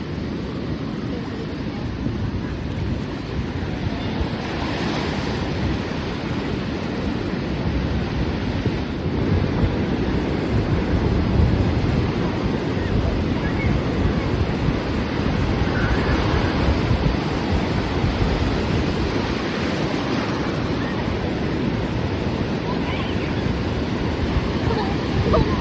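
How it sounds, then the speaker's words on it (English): Ocean waves curling and breaking on a summer beach make a steady, rumbling wash of surf with periodic surges, heard up close under a light wind rush. "The waves are curling!"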